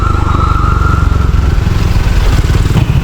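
A Yamaha Lexi scooter is ridden along Quezon Avenue, its small engine giving a steady, close buzzing drone with road and wind noise mixed in, loud and unbroken throughout.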